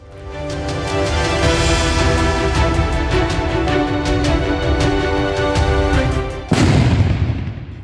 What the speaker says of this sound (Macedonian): Поради звукот на петарди